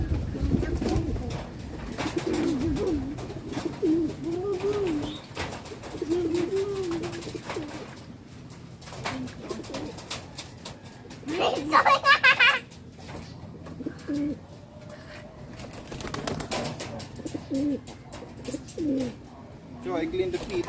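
Pigeon cooing during a bath, soft repeated coos with a few brief chirps heard close by amid splashing and handling noises, with people talking over much of it.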